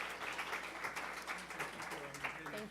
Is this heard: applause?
yes